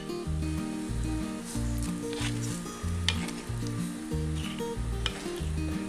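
Pink perch pieces go into a simmering Kerala coconut-milk fish curry, a soft continuous bubbling sizzle with light stirring scrapes under a steady hum, close and moderately quiet.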